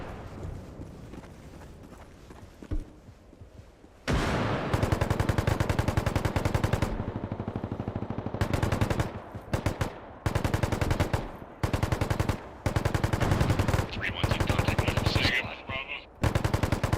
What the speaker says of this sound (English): I can hear shots to our direct southwest